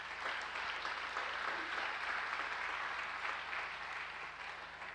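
A church congregation at a worship service claps together in sustained, even applause, heard at moderate distance without a break for five seconds.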